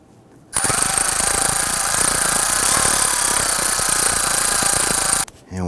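Power tool running down valve cover bolts on a 2007-2021 Toyota Tundra engine, one steady loud whirring, rattling burst lasting about five seconds, close by, with no talk over it.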